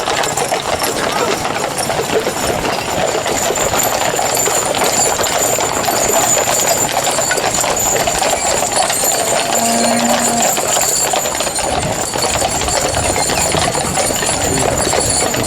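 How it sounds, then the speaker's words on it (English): Horses being turned in a show ring at an agricultural show make a clip-clop of hooves, steady and fairly faint, beneath crowd noise and people talking. "Look at that skill of moving those horses round there."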